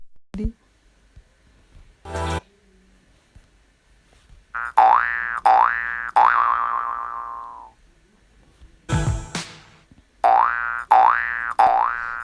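Cartoon boing sound effects from iMovie on iPhone, several springy wobbling boings in bursts with short gaps, one long decaying boing and a quick cluster of three near the end, loud and clear with no talking.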